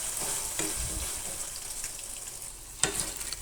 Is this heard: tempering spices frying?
yes